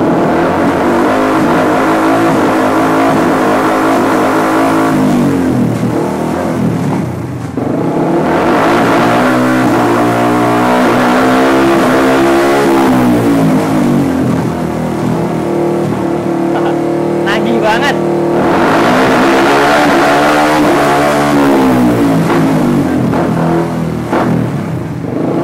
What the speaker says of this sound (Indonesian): sekarang mau gue cobain quick shifter ya. Gue ganti gigi nggak pakai tangan nih